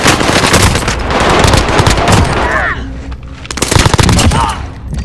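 Rapid automatic gunfire and heavy shooting in a battle-royale style video game, loud and dense, with repeated bursts, a brief lull near the middle, then more volleys; a voice talks over it.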